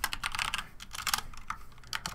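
Quick bursts of keystrokes clatter on a computer keyboard, close and irregular, with short pauses between runs of typing and no voices.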